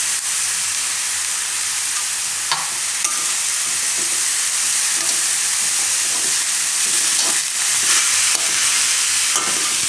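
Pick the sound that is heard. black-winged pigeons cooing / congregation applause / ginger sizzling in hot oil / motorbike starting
ginger sizzling in hot oil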